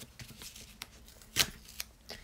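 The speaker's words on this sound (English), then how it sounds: "It rips like a masking tape does, which is great. You get a good control of how it tears." Surgical tape ripped by hand in a quiet studio, a few short faint tearing crackles with one sharper rip near the middle, close and without talk.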